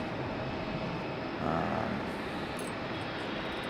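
An Alaska Airlines jet taxis at Raleigh-Durham International Airport, heard as a faint, distant steady engine rumble and hiss with a slight swell midway.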